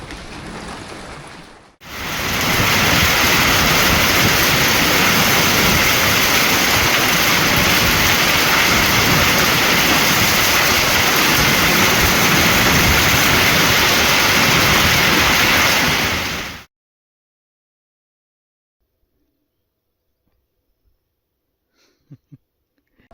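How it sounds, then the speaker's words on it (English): Heavy storm rain pours down, heard from inside a greenhouse as a loud, dense, steady roar lasting about fifteen seconds, then stopping abruptly into near silence with a few faint ticks. "Just enjoying the view of the rain from the greenhouse."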